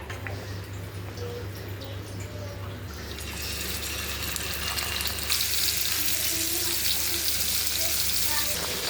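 Fish laid into hot oil for frying in a home kitchen, a soft hiss that swells after a few seconds into a louder, bright, continuous sizzle that holds steady to the end.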